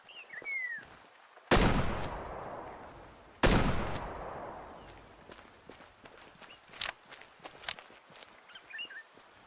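Two loud rifle cracks fired while hunting in Way Of The Hunter, each followed by a long rolling echo, then quieter footsteps and rustling with faint distant bird calls.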